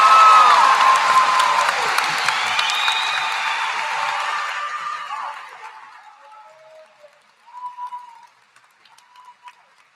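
Applause and cheering from a large crowd at a high school graduation, loud and dense at first with scattered whoops, then gradually fading to sparse claps and a few faint voices.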